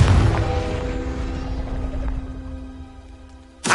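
The Confringo fire spell goes off in Hogwarts Legacy with a loud booming blast at the start that fades into a ringing hum, then a second sharp burst just before the end.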